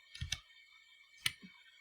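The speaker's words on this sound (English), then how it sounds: "Then we're going to copy that because Miss Dawson is slow at typing" Two quick bursts of computer keyboard typing during HTML coding, close and fairly quiet, a cluster of clicks near the start and another sharp keystroke cluster a second later, with no voice over them.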